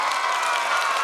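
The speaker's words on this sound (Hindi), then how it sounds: "ताली ऐसी बजाओ सामने वालों को जोश आ जाए." Audience at a school annual gathering in Chhatrapati Sambhajinagar bursts into steady, loud applause, a dense wash of clapping that stays even from start to finish with no talk above it.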